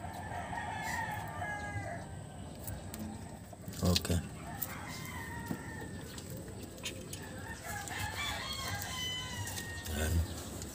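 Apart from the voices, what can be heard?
chicken rooster crowing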